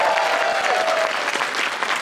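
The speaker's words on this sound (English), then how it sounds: "Put your hands together for the two Wolverines on Rite of Passage." Convention crowd applauding at New York Comic Con 2024 during a Magic: The Gathering Marvel card reveal, steady dense hand claps filling the hall with a fading whoop at the start.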